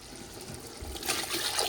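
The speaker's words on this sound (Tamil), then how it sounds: "ஸோ ஃபஸ்ட்டு நம்ம தண்ணி ஊற்றிட்டு" Water is poured into a cooking pot while making chicken dum biryani, a short steady trickle and splash that grows a little louder toward the end, with no talking.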